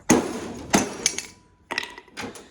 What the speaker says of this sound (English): Just hit it with the hammer.